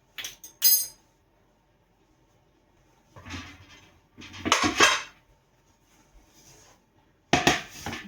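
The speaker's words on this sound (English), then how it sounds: "I'm going to go ahead and get out the pressure cooker" A pressure cooker and glass canning jars being handled in a kitchen: scattered metallic clanks, clinks and knocks in separate bursts with quiet gaps between them.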